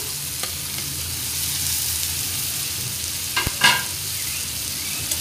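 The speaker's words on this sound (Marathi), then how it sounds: "कांदा, टोमॅटो आणि कोकम व्यवस्थित परतून घेऊया।" Onion, tomato and kokum sautéing in oil in a pan for sukticha kalvan, a steady close sizzle with a couple of louder stirring scrapes near the end.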